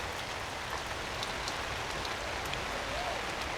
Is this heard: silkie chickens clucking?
no